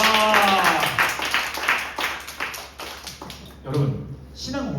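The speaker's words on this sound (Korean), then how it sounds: "야 박수 좀 크게." Rhythmic clapping from a congregation at a Sunday church service, steady hand strikes pulsing under loud voices that carry through most of it before thinning out near the end.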